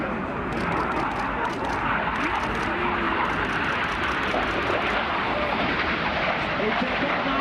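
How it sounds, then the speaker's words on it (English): RAF Red Arrows jets roar overhead during a barrel roll at an international airshow, a loud sustained engine rumble and whoosh filling the whole stretch, with a commentator speaking over it. "Each aircraft will perform a barrel roll, they'll pass in the middle."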